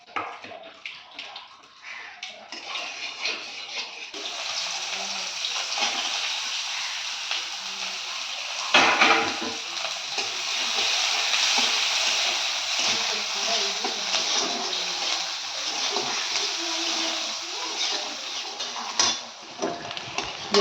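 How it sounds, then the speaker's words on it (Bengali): Chopped onion frying in a pan hisses steadily up close, with a clatter about midway and faint background sounds beneath the constant sizzle. "পেঁয়াজটা অল্প ভাজা হয়ে গেছে"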